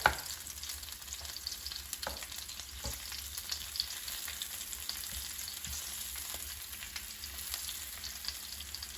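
Chicken drumsticks pan frying after a flip, a steady close sizzle and crackle of hot oil with occasional faint pops and clinks, no voices.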